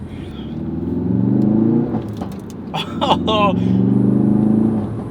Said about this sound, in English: The shifting from second to third is just so satisfying. That, oh, the little pops.